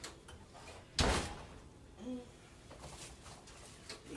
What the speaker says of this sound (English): I'm going to back you up so I can open up the oven